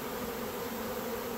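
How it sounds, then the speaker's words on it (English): A swarm of honey bees buzzes all around, a dense, continuous drone heard up close without any voices. "And there are just bees everywhere"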